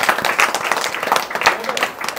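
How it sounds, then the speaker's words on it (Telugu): A crowd claps loudly at a Navaratri festival gathering at Sri Katta Maisamma Temple, dense overlapping hand claps sustained for a couple of seconds with some voices mixed in. "అందరు లక్ష్మణ మళ్ళీ ఒకసారి క్లాప్స్ కొట్టాలి గట్టిగా"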